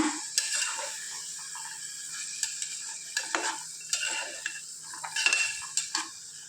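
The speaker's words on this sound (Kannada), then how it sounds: "ಬೀಜವನ್ನು ಹಾಕಿ ಕೂಡ ಚೆನ್ನಾಗಿ ಫ್ರೈ ಮಾಡಿಕೊಳ್ಬೇಕು ಎಣ್ಣೆಯಲ್ಲಿ ಚೆನ್ನಾಗಿ ಮಿಕ್ಸ್ ಮಾಡಿಕೊಳ್ಬೇಕು" Seeds from ripe beans sizzle steadily in hot oil while a spoon stirs them, giving regular scraping knocks against the pan, close and alone with no voices.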